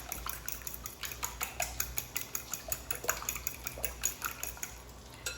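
Eggs being beaten in a bowl, a quick regular run of light metallic taps and clinks from the utensil against the bowl, fairly close and fairly quiet.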